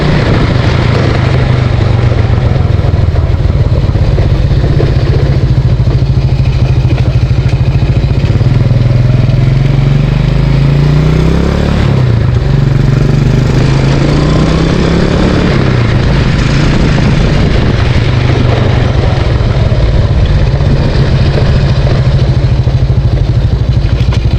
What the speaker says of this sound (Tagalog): kung bakit maingay yung makina nitong ating Motorstar dahil hindi ko pa nga pala nilalagay yung kanyang air filter or yung kanyang air cleaner